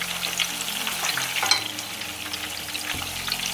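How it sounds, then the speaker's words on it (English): Meatballs browning in a pan for an Italian tomato sauce give a steady close sizzle and crackle, with brief stirring scrapes and clatters partway through. "So we cook the meatballs till they get a really brown, nice color on the outside."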